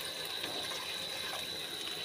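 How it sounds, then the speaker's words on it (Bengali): Water is poured into a cooking pot of meat and milk, a faint, steady rushing splash heard from close by without talk. "সঙ্গে একটু পানিও অ্যাড করে দিচ্ছি"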